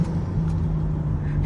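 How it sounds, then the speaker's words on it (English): BMW 335i engine fitted with an aftermarket intake, a steady low droning rumble at even speed with no revving, close and unbroken, with no talking. "I'll just let you guys hear the car."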